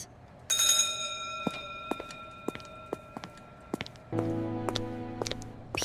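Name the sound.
school bell ringing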